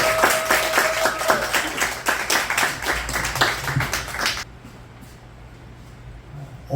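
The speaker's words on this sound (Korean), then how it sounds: "나오실 때 박수로." Church congregation at a revival meeting clapping to welcome a guest pastor; brisk, lively group applause close by that stops abruptly after about four seconds, leaving quiet room tone.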